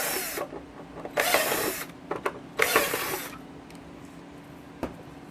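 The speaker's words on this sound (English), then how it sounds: "switch drill bits to a 3/16 or 4 or 5 millimeters, and then enlarge the holes big enough so the screws can go in there" A power drill fitted with a larger bit enlarges screw holes in parts of a 1/6th scale Sd.Kfz 250 track set. It makes three close, loud whirring bursts of about a second each, separated by quieter pauses with small clicks.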